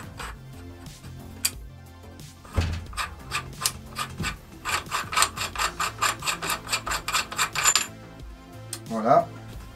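Metal flash hider being unscrewed from an airsoft AK replica: a few scattered clicks, then a run of rapid, rhythmic ratcheting rasps for several seconds, and finally a brief scrape.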